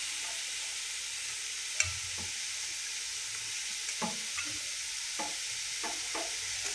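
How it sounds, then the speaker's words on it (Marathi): Soybean chunks in masala curry sizzle steadily in a pan, a constant bright frying hiss with a few soft stirring clinks and scrapes scattered throughout. "आता आपल्या सोयाबीन टाकते, त्याच्यात शिरलं पाहिजे ना मसाला."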